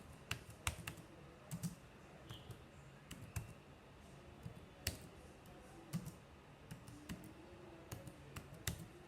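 Keys on a computer keyboard are tapped in quick, irregular clusters of soft clicks against a quiet room hum, with no voices.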